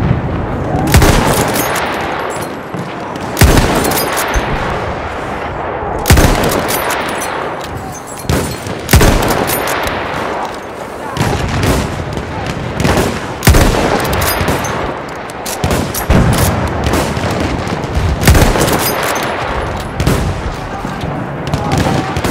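Dense gunfire rattles through a Battlefield 1 defense battle, with sniper and machine-gun bursts, booming shots and distant explosions layered in a loud, continuous, chaotic stream.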